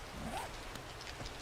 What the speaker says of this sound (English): Rain is nicely raining right on top of there.